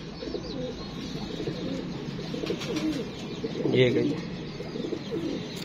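Loft pigeons, including a female sitting on eggs, coo in soft, repeated close calls while someone talks over them, with a brief louder burst near the end.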